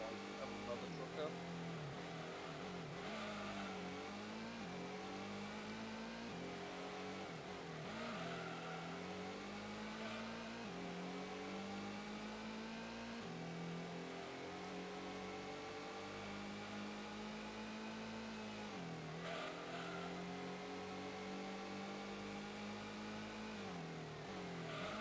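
A race car engine in Gran Turismo 1 drones and revs in steady rising and falling sweeps, bogging down at times, running continuously at a moderate level beneath a talking voice.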